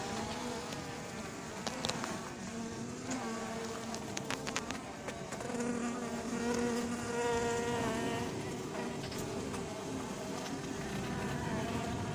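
Honeybees hum and buzz around an open hive while a queen is being introduced, a dense close buzzing swarm with individual bees flying past the microphone.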